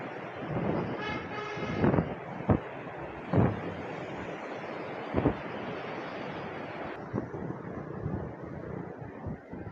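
Fast-flowing water of the Sindh river at Jamshoro, near the large Jamshoro bridge, rushing as a steady broadband roar, with a few sharp louder knocks and thumps standing out over the constant flow.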